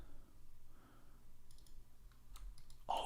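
A computer mouse clicks a few times, including a quick double click, in a quiet room while 3D detail sculpting is done in software. The clicks are soft, short and close, with a brighter click burst near the end.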